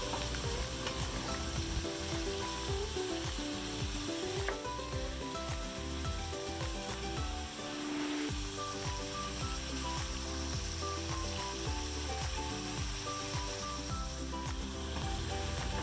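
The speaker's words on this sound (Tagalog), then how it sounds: "frying the meat will create a caramel residue in the pan" Beef chunks frying in a pan for stew give off a steady, dense sizzle that crackles continuously and fairly close, with no voices over it.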